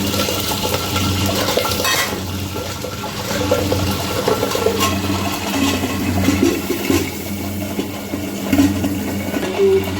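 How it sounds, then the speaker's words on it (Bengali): Water poured into a pot of handi chicken on the stove, a continuous loud gushing and bubbling rush that runs unbroken for about ten seconds with no talk. "একটা জল নিতে হবে, এইভাবে জল দিয়ে"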